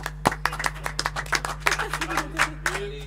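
A small group at a reggae live session in a radio studio claps for a musician, sparse and distinct handclaps over a steady electrical hum, with faint voices mixed in.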